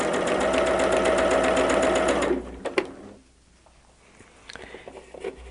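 A sewing machine stitches quilt fabric for a barn star sampler block, running in a fast, close, buzzing whir for about two seconds before stopping, followed by quiet handling noises.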